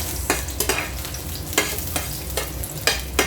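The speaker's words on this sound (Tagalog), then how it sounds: "Ito na, maggigisa na tayo ng bawang." Garlic sautéing in a pan for a simple home-cooked dish, a steady close sizzle broken by several sharp bursts of stirring and scraping at regular intervals, with no talking.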